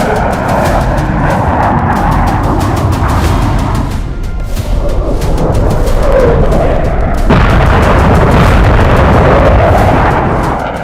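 Russian OFAB 500 aerial bombs dropped by Su-34 fighter-bombers and Kh-101 cruise missiles striking the Starokostiantyniv airbase in Ukraine, a loud, dense barrage of booming blasts and crackling rumble that keeps going without pause.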